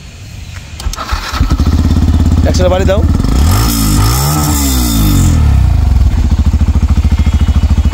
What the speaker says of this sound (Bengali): তো বাইকটা স্টার্ট করো, একটু সাউন্ডটা দেখাবো